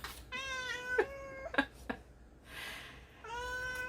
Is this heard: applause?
no